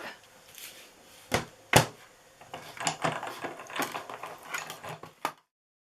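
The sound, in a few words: die cut and emboss machine running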